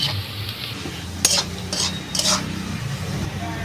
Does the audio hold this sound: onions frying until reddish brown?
yes